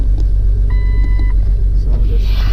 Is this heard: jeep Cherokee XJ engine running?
yes